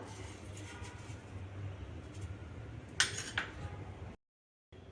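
Quiet tapping on a clay water pot, checked for cracks, gives two short knocks close together over faint background hum.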